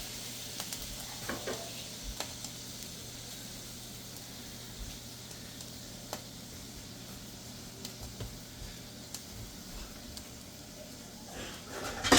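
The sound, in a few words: pepper mix frying and sizzling in oil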